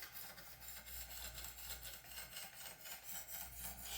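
A bevel is scrubbed back and forth to match its angle, producing quick, even rasping strokes in a steady rhythm, close and fairly soft, with no voices.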